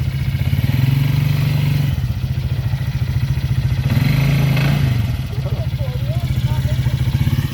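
An off-road four-wheel-drive vehicle with its differential failing to lock revs hard on a trail, engine droning steadily and rising in two surges while the wheels spin, with people talking over it.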